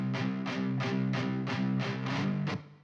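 Two distorted rock guitars played through amp simulators chug together in a steady pulsing rhythm of repeated palm-muted chords, loud and dense, ending with a short room reverb tail.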